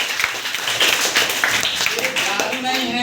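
Audience clapping at a science demonstration, a dense patter of many hands filling the space while a voice talks over it.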